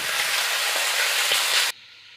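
Round-cut ivy gourd fries in a hot pan with a loud, bright, continuous sizzle that stops abruptly near the end, leaving only faint background noise.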